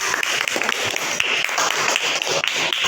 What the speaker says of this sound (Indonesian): Kasih tepuk tangan untuk Reva.